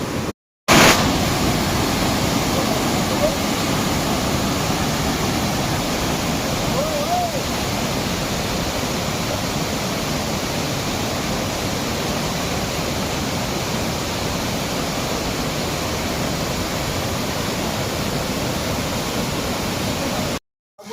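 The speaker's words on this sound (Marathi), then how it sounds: "पाणी एवढं तुफान आहे ना खतरनाक पाणी आहे समुद्राच्या लाटासारखं" Loud, steady roar of rushing water at the base of Khorninako dam near Ratnagiri, broadband and continuous throughout, heavy flow churning below the dam, close and overwhelming.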